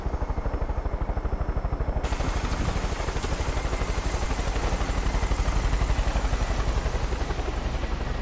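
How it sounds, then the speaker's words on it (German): A helicopter in the video game Far Cry 5 drones loudly with a fast, steady rotor thump that continues throughout, close and unbroken, with no voices over it. "Wieder elegant aus dem Helikopter herausgesprungen."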